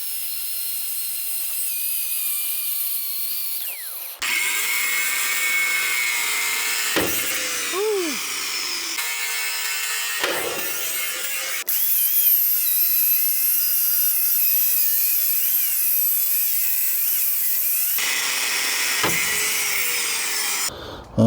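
An angle grinder cuts through a rear leaf spring on a Freightliner truck, a loud, steady high-pitched cutting whine broken by short pauses and restarts, with no talking.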